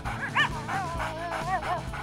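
A toy dog in a doll play scene yips, barks and whimpers in a high, warbling series of short cries over steady background music, fairly loud and close.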